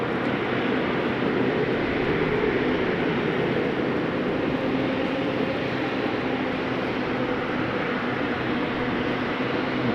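A KLM airliner at rainy Amsterdam Schiphol Airport gives off a steady, broad jet-engine roar that holds at an even level throughout, moderately distant and with no voices over it.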